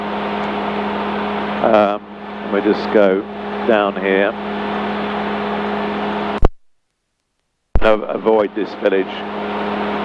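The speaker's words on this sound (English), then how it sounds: "So I think hopefully the engine will go on a little longer." Magni M24 gyrocopter engine in flight on a cross-country trip from England toward France, a steady droning hum under a pilot's intercom voice, cutting out briefly into silence before the drone and talk resume.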